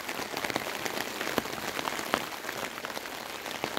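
Rain patters steadily on a homemade fabric awning, a dense close hiss of drops broken by a few sharper individual splats, with no voices.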